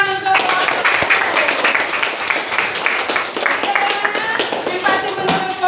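A group of students in a classroom claps hands together, a dense, continuous patter of claps lasting several seconds at close range, with faint voices underneath.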